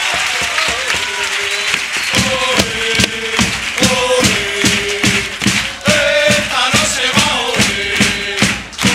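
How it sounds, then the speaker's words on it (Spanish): Applause at a carnival comparsa gathering, steady rhythmic clapping from a crowd running for several seconds over music-like tones, with brief dips in loudness. "Un fuerte aplauso para él."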